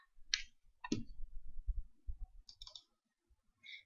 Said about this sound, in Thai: ให้ทำการดับเบิลคลิกไฟล์ขึ้นมาค่ะ